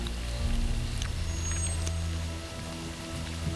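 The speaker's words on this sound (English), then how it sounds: "It starts to rain." Rain begins falling over an alfalfa field as a storm moves in from the north, heard from a hunting tree stand. A steady patter of drops sits over a low rumble, with scattered sharper ticks throughout.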